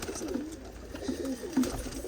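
Pigeons coo softly in a loft, a few low, rounded calls spaced irregularly over faint background noise, fairly quiet and close.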